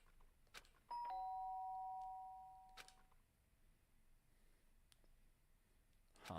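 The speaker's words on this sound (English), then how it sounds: "The sharp sound of the doorbell pierced my sleepy haze and pulled me back to the real world." Danganronpa video game doorbell sounding as a sharp electronic two-tone chime, a bright sustained ding that rings out for about two seconds and fades, with a few soft clicks around it in an otherwise quiet room.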